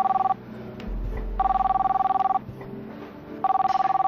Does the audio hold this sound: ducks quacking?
no